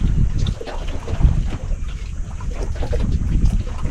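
Wind buffets the microphone aboard a boat at sea, a steady loud low rumble with gusting swells and a wash of water noise beneath, without talk.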